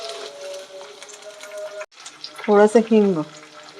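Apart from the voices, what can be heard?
mustard seeds crackling in hot oil for tempering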